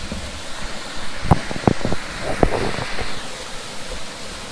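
Small cascades at the Aira Force waterfall give off a steady rushing wash of water, mixed with wind noise on the microphone and a few brief clatters.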